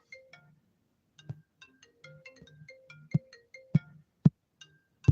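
A phone rings with a repeated electronic ringtone melody of short tonal beeps, moderately loud, with a few sharp clicks in between and no talking.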